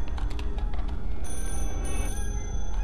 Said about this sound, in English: I think I'm supposed to be following the sound of the phone ringing.